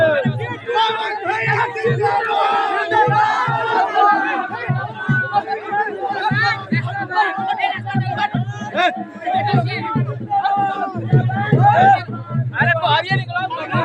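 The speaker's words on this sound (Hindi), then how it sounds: "काफी यहाँ भीड़ लगा हुआ है, फाइनों के बीच में खलबली मचा हुआ है देखने के लिए।" A large, excited crowd waits for the arrival of the star Pawan Singh, with dense overlapping chatter and shouting close by and people talking loudly throughout.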